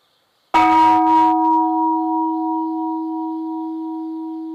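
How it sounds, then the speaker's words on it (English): At a Zen monastery, Antaiji, a single wake-up bell is struck once, sharp and loud, and then rings out in a long, steady, slowly fading hum with nothing else heard. "One of the Zen students sounds a wake-up bell."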